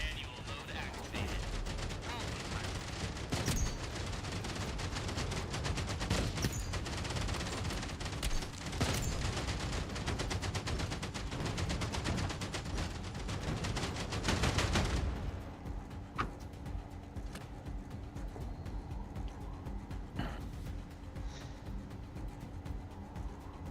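Sustained rapid machine-gun fire in a video game, a dense steady rattle for about fifteen seconds that then stops, leaving quieter background game noise and occasional distant thumps.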